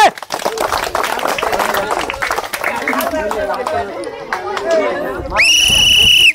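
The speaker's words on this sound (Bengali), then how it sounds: "আমার ছোট্ট বোনটির জন্য করো জোরে হাততালি হবে" Clapping and cheering from a crowd watching a girl take on a football cage challenge, dense close applause with lively babble and voices, ending on a loud sustained whistle-like tone.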